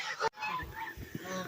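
Geese from a small human-imprinted group at a rescue give several honking calls at close range, with no talk over them.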